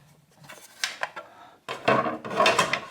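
Metallic clinks and scraping rasps from a 10 millimeter wrench loosening a nut on a 2003-2007 Honda Accord during spark plug work, quiet at first, then a louder, denser burst of ratcheting metal contact, close up with no talking.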